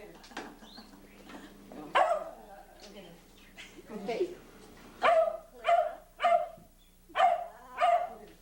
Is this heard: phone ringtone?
no